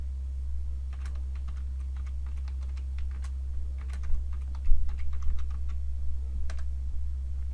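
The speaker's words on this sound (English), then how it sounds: "just go to CMD and type Jupyter Notebook" Light clicks of typing on a computer keyboard, scattered irregular keystrokes over a steady low hum, faint and close.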